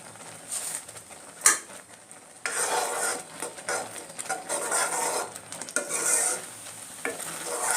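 A kheer filling thickened with rice flour is stirred in a pan, with bursts of scraping and sticky swishing strokes over a soft background hiss, close and moderately loud.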